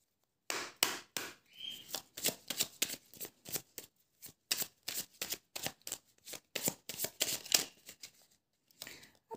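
Tarot cards are handled and shuffled up close, giving a long string of crisp, papery riffles and taps in uneven bursts with brief pauses between them.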